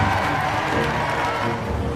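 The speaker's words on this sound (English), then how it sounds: "he returned home to a hero's welcome from a jubilant crowd." A jubilant crowd welcomes a returning Falklands War helicopter pilot home, a dense, steady roar of cheering and applause from many people, continuous and fairly loud, heard as old archive footage.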